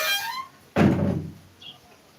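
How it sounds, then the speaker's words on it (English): A classroom door swings shut with a single solid thunk, close and moderately loud, followed by a faint squeak as the room settles. "Close the door."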